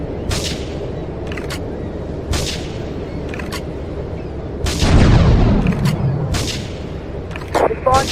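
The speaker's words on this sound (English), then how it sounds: "Investigate reports of gunfire and explosions." Gunfire and explosions ring out in the video game Grand Theft Auto III, with several sharp crack-like shots spaced through the scene and a heavier boom with a decaying rumble midway, over constant background game noise.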